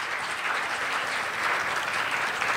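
An audience at a pedagogy network event gives a steady, dense burst of applause for a speaker being welcomed to the stage.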